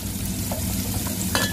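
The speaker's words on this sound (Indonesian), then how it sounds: "Ikan asinnya juga digoreng." Salted fish frying with bitter melon in a pan, a steady close sizzle under scraping stir strokes and a few light utensil clicks throughout.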